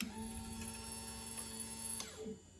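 A Honda CBR motorcycle's fuel pump primes as the key turns: a steady electric whir with a high whine runs for about two seconds, then cuts off and fades, close and fairly quiet.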